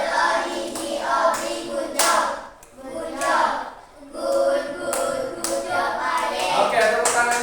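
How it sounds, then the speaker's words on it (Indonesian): A classroom of students in Indonesia claps hands together in appreciation for a group that presented, in steady bursts of lively applause that swell, dip briefly, and then resume. "Oke, tepuk tangan dulu."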